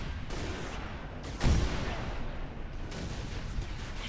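Distant gunfire and rumbling blasts from Halo Reach video game combat against the Covenant, with one heavier thump near the middle over a dense, steady battle background.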